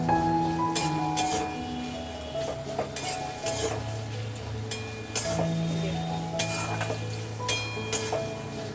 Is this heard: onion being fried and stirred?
yes